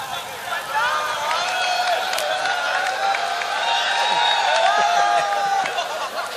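Applause and cheering rise from the audience at a mushaira poetry gathering in Gangoh as a poet is welcomed, with scattered claps and crowd murmur beneath a speaking voice.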